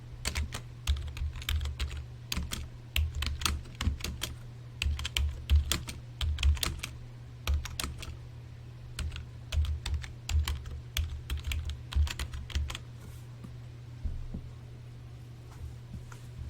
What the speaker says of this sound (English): Let's type this so it's really legible.